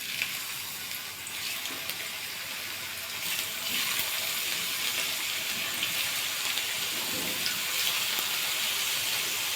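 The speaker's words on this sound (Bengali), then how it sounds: "তেলটা ভালো করে গরম হয়ে গেছে, এবার আলুগুলো ছেড়ে দেবো তেলের মধ্যে।" Potato slices drop into hot oil and fry with a dense, steady sizzle that swells louder partway through, close and continuous with faint utensil movement.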